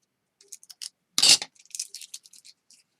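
Scissors cut the ends off paper planner pages, giving one sharp crisp snip, with small light clicks and rustles of the paper before and after.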